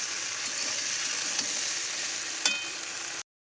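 Potatoes and okra fry in a pan with a continuous, even hiss of oil, a steady close sizzle broken by a couple of brief stirring clicks before it cuts off.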